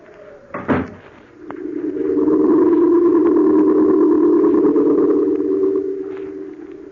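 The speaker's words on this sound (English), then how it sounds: "I shut the door behind me" A door shuts with a sharp, close thud early on in a radio drama, followed by a long, loud sustained tonal drone that swells and holds, like a musical or effects sting.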